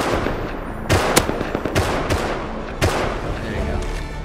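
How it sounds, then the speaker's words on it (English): Gunfire rings out at the cargo ship in the video game Rust, several loud, sharp shots at irregular intervals, with a brief burst near the start and single cracks after, over a busy game background. "I'm shooting at it for you, Owen"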